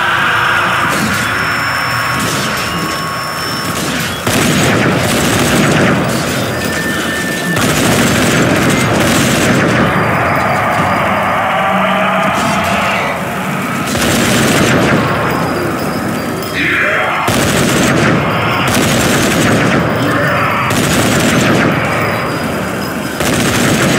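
Mounted turret machine gun firing in the zombie shooter game Zombie Army 4: Dead War, loud continuous automatic bursts with heavy booms and impacts, a dense, relentless barrage of gunfire.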